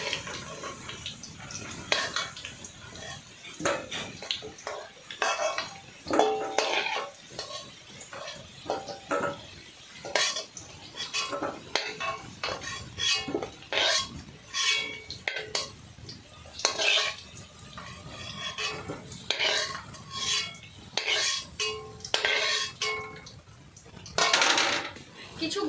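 Fried potatoes, browned in oil for a Bengali mutton curry, are lifted from a pan with a metal utensil, giving repeated clinks and scrapes with a light sizzle, close and moderately loud throughout.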